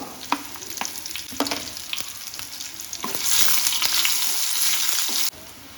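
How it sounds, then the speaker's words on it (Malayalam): Dried red chillies drop into hot oil for Kerala-style pal kappa. Light stirring clicks and a sizzle swell into a louder, fuller crackle before it stops abruptly, with no speech. "ഇനി നമുക്ക് ചുമന്ന മുളക് അഥവാ വറ്റൽ മുളക് ഇട്ട് കൊടുക്കാം"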